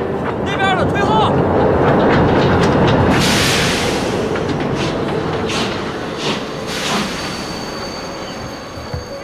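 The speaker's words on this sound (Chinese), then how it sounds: "火车进站，大家往后站" A passenger train rolls into a station with a rumbling, clattering roar and high squealing wheels at first, then gradually eases off; people talk over the noise.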